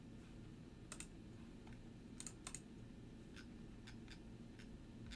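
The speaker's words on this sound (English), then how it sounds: "I'm typing this in." Scattered keyboard clicks, a few quick keystrokes at a time, faint over a steady low room hum with no talking.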